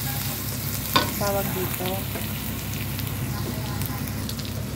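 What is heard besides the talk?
sautéing ginger, garlic and onion in a pan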